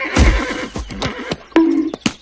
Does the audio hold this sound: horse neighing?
yes